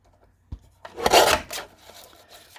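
A Tim Holtz paper trimmer cuts a small craft card panel: a soft tap, then a short rasping slide of the blade across paper, followed by lighter rubbing sounds, all close up.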